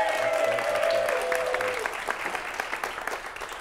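A crowd at an improvised comedy show claps steadily while a voice talks over it at first, the applause gradually thinning out toward the end.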